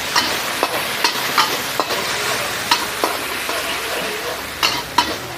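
Rabbit meat for street-style barbecue stirred in a pan with ghee, garlic and soy sauce, giving a steady loud sizzle broken by sharp scraping clatters of the spatula at irregular intervals.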